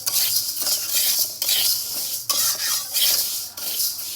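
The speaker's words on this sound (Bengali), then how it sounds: "মসুর ডালটাও আমি হালকাভাবে ভেজে নেব।" Masoor dal being lightly fried and stirred in a pan for khichuri, a continuous close rasping scrape of the spoon across the pan in repeated strokes with faint sizzle, no voices.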